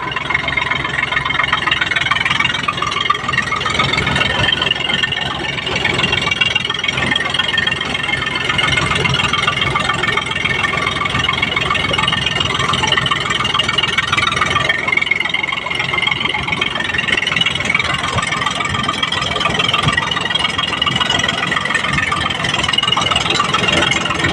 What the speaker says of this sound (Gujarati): આપણું ટ્રેક્ટર છે એકચ્યુઅલી દસ પાંત્રીસ ડીઆઈને